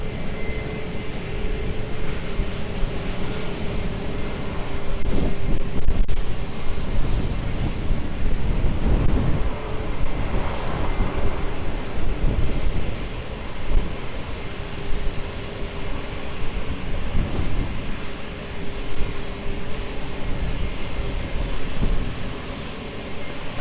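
A fixed-wing airliner on approach to runway 20 at Lisbon Airport produces a steady, broad engine roar with wind buffeting the microphone, swelling slightly in the middle and holding throughout without speech.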